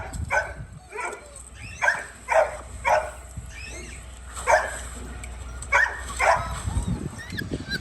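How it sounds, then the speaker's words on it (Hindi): A small pet dog at home gives a series of sharp, fairly close barks in uneven bursts, with someone speaking briefly between them. "ये देखें, शैगी चुप बोली ना।"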